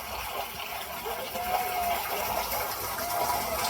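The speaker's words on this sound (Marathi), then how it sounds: "पाणी भरून घ्यायचं आता" Water gushes steadily from a tap in a continuous rushing flow, close by, with a faint tonal whine running beneath it.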